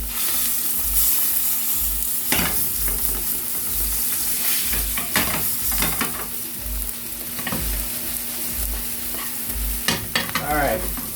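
Steak and vegetables sizzle loudly in a hot, smoking pan, a constant crackling hiss broken by sharp scrapes and stirs of a utensil against the pan.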